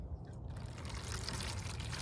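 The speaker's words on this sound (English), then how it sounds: "put some water on the bottom." Water is poured into the bottom of a plastic seed tray while indoor vegetable seeds are being planted. The pour is a soft, steady trickle that runs the whole time at a low level, with no voices.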